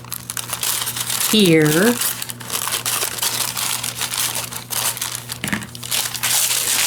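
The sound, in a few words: cutting apart a glassine bag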